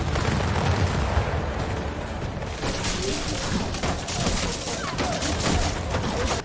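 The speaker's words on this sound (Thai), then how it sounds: "ทหารญี่ ปุ่นเปิดฉากยิงด้วยปืนยาว" Rapid musket volleys crackle and boom continuously amid a chaotic naval battle din in the 2014 film The Admiral: Roaring Currents, with loud overlapping shots throughout.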